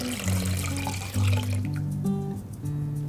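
Water pours steadily into a pitcher of homemade lemonade with lemon juice, a close, continuous splashing rush that fills the short moment.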